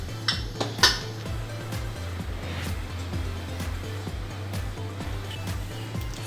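A metal rice container is set inside a pressure cooker on a lit gas stove, giving a couple of sharp metallic clinks near the start followed by lighter clatter over a low steady hum.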